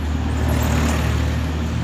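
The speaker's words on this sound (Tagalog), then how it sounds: "ang daming dumadaan ang ingay" Busy road traffic passes nearby, a steady loud roar of engines and tyres with a low rumble that never lets up through the short stretch.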